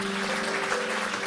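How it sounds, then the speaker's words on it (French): A studio audience on a French TV chat show claps for a guest, a dense and steady wash of applause held at even loudness for the full moment, with a faint sustained tone underneath. "Oh ben on peut l'applaudir très fort."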